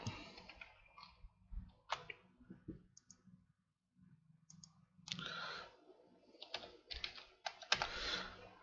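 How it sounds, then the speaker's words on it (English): Bursts of computer keyboard typing, close and crisp, with short pauses between runs of keystrokes. "I should be typing it here"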